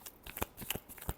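A brief final shuffle of a deck of reading cards gives a few close, crisp riffling snaps in quick succession, with no voice.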